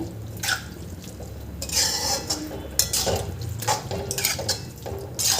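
Carrot halwa is stirred in a pan on high heat with milk, a spoon scraping and clinking against the metal in irregular strokes over a wet, bubbling background, close and moderately loud with no voices.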